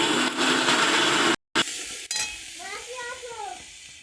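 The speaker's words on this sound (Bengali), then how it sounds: "মশলা পেঁয়াজটা ভালো করে ভাজা হয়ে গেছে" Onion and spice paste fries in oil, a bright sizzle with stirring that stops abruptly, followed by quieter clinks and a brief voice-like tone.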